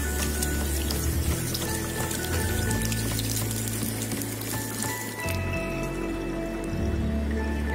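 Running water splashes and pours steadily as body scrub is rinsed off skin, a continuous close wash of liquid with small shifts in flow and no voices.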